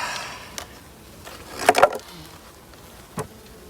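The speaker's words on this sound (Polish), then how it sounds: "Tutaj tyle tej pszczoły, że nie wiem jak wyciągnę" Honeybees buzz around a hive close by, a steady insect hum with a few louder passes as individual bees fly near.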